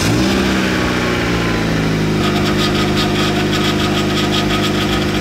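A JDM sports car's engine starts up and settles into a steady, close idle after a power steering repair, with a constant rumbling drone throughout.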